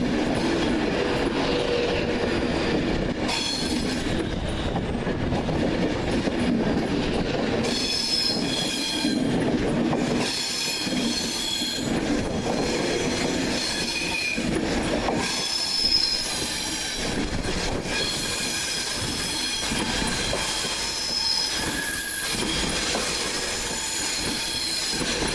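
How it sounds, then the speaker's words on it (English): A Virgin Trains West Coast service from Glasgow Central to London Euston moves through Carlisle station, loud and close, with rumbling wheels, repeated clatter over rail joints and high squeals throughout, no voices. "the slightly delayed 1449 Virgin Trains West Coast service from Glasgow Central to London Euston"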